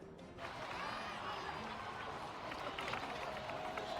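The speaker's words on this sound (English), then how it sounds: "Let's give a huge round of applause to our brave young warrior, Kachina!" A crowd in Genshin Impact breaks into sustained applause and cheering, a dense steady wash of clapping held at an even level throughout.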